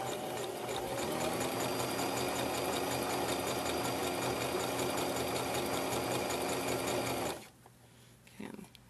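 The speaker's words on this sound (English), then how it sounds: "I want my fabric to be loose as it's sewing through here." A sewing machine stitches fabric for a baby hat in a steady, fast, continuous whir for about seven seconds, then stops, leaving quiet handling noises.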